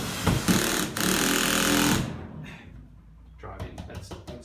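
A power driver whirs for about two seconds as it sinks a 50 mm (2 inch) screw into wood while overhead garage shelves are installed, followed by a few light knocks and taps, all up close.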